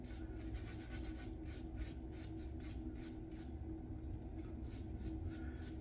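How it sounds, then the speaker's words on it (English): A boar-bristle shaving brush scrubs soap lather into a beard with steady, rhythmic rubbing strokes, close and continuous, with no talking. "I really, really enjoy the Badger, or the boar brush, sorry. I can really just sit there and scrub"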